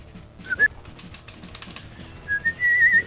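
A person whistles a tune in two short bursts, a brief high note early and a longer sustained phrase at the end, with quiet clicking and background sounds between.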